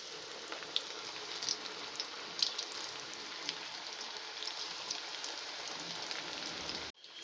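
Mixed vegetable pakoras frying in hot oil, a steady close sizzle with a few sharp pops and spits before it cuts off abruptly near the end.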